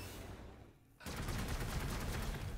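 Melter cannon fire in the Warhammer 40,000: Gladius strategy game: after a brief quiet dip, a dense burst of crackling gunfire erupts and keeps going, moderately loud and unbroken, with no talking.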